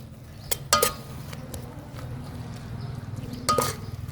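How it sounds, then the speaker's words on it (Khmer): A spoon stirs coconut cream sauce sweetened with sugar and a little salt in a pot, with soft scraping, a few sharp clinks against the metal and a low steady simmer underneath. "ធ្វើការកូរវាឲ្យសព្វសិន"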